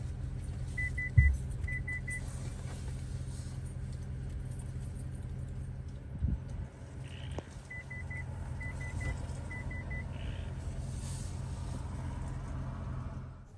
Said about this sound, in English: it starts beeping at you if there's a car or a pedestrian or a dog or a bicyclist coming